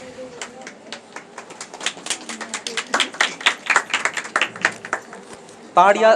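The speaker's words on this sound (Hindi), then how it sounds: "तालियां सिर्फ परमेश्वर के लिए।" A crowd claps steadily, with the clapping growing denser and louder before a voice cuts in at the end.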